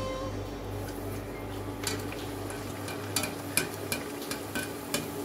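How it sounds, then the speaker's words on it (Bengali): Luchi, puffed Bengali flatbread, frying in hot oil in a pan at home: a soft, steady sizzle with a few light clicks and taps of a utensil against the pan, with no talking. "প্রত্যেকটা লুচি এভাবে ভেজে নিব"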